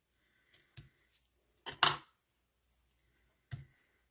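Scissors trimming paper for a holly craft make a few short, crisp snips scattered over a quiet background, with one longer double cut in the middle.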